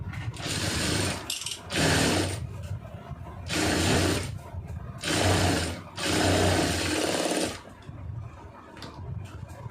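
A sewing machine runs a stitching seam on a blouse lining, its motor whirring in four loud bursts of about a second each, with quieter pauses between runs.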